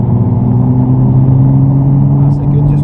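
Steady, loud engine drone from inside a Nissan GT-R on a track lap, holding a constant note with a faint rise in pitch and no talking heard.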